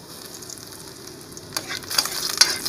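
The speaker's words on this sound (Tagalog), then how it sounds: "Ulog na natin yung bawang." Garlic sizzles and crackles in a hot pan, quiet at first and then louder and sharper, with bright crackling bursts over the final second.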